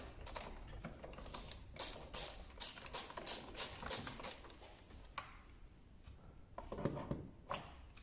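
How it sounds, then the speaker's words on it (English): A bit driver with a T25 adapter ratchets on a car's oil filter housing during a service, giving a run of quick, faint clicking bursts in uneven clusters. "Got my T25 adapter on the end of my bit driver."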